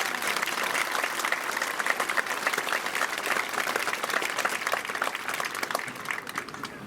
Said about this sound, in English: How about a round of applause for Mrs.